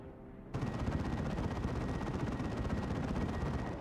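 An assault cannon in the video game Elite Mod opens up after a brief lull and keeps firing in a dense, continuous rapid-fire roar, loud and sustained to the end.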